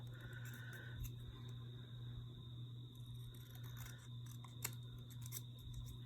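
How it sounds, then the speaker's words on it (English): Scissors roughly cut through card in a few quiet, intermittent snips over a faint steady hum, close by and soft, with no voices. "I'm just like roughly cutting this right now, and I'm going to trim it up."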